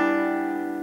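A single sustained plucked guitar note rings close and clear, holding steady as it slowly fades, heard alone; it is the tail of a lick with a push-off on the third string ending on the fourth string.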